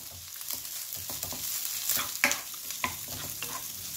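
Rice stir-frying over high heat with garlic and pork sausage, Japanese style, with butter: a continuous loud sizzle broken by repeated spatula scrapes and knocks against the pan, close up and without talk.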